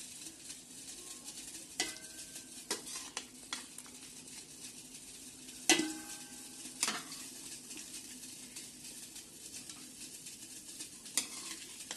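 Chicken and potatoes sizzle faintly in a pot for biryani, with a steady low frying hiss broken by several sharp clinks and scrapes of stirring against the pot.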